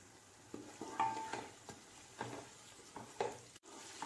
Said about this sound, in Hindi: टमाटर सॉफ्ट होने तक इसे भूनते रहिए